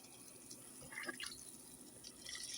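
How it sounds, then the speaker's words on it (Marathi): Heated water from cooked dal is poured into a pan for katachi amti, a faint, brief liquid splash and trickle that builds and then runs on quietly, with no talking. "हे पहा डाळीचं पाणी मी गरम करून घेतलेलं आहे हे पाणी आता त्याच्यात ओतायचं"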